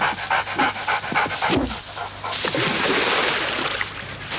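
A dog pants quickly and rhythmically, close and loud, its breaths running through the whole stretch under a faint background hum in a French dog food advert.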